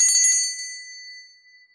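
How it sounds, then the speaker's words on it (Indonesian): A small bell rings with a quick cluster of bright strikes, then a clear ringing tone that slowly decays over nearly two seconds, alone in a quiet room. "saya akan memulai meramal kartu remi dengan ditandai lonceng berbunyi"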